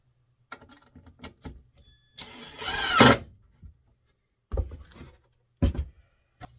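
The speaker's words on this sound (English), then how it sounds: "drilling and screwing is a little loud." Power drill and screws driven into wood while building a wooden window box, in short loud bursts with one longer whirring run in the middle, separated by quiet pauses.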